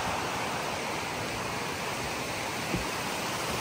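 Avery Creek near Brevard, North Carolina, runs over a small slide, a steady broadband rush of water close by with no break and no voices.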